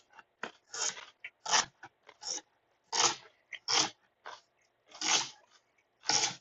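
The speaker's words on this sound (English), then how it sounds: "I just realized y'all probably hearing me crunching on that carrot." Someone bites and chews a raw carrot close up, with loud, crisp crunches coming in irregular bursts and short silent pauses between them.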